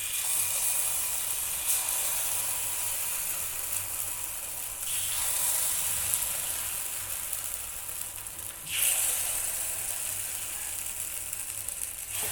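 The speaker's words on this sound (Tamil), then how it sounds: "ஆயில் அப்ளை பண்ணிவிட்டு மிக்ஸ் பண்ணி வச்சுருக்க மாவு வந்து ஒவ்வொரு குழியில் ஊற்றிடலாம்." Vegetable paniyaram batter poured into an oiled paniyaram pan gives a continuous sizzle, swelling at a few points as each cavity is filled, steady and close with no talk.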